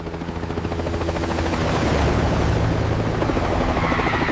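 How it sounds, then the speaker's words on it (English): A helicopter roars overhead with a steady, fast rotor chop that swells louder midway, dense and close, with no voices. "The helicopter, in the same way, flies right over the heads of the baboons"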